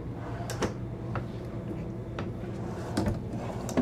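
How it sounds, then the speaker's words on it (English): Soft-close, full-extension drawer glides in the kitchen of a 2023 Newmar Super Star 3727 motorhome: a low rolling slide with a few light knocks and clicks, close and fairly quiet. "All your drawers are full extension drawer glides with soft close."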